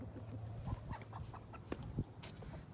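A small flock of chickens in a new pen, clucking softly and intermittently at a distance, with faint scattered calls over a steady low hum and wind-like background noise.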